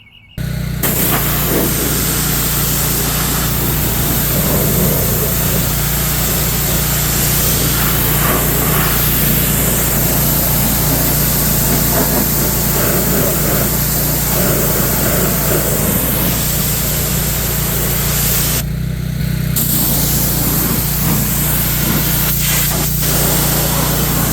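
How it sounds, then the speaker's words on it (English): A pressure washer runs steadily to rinse out a Toyota Tundra truck bumper, making a loud continuous spray hiss over a droning motor that drops out briefly near the end. "So I'm going to turn the pressure washer on, and I'm just going to rinse all this stuff out."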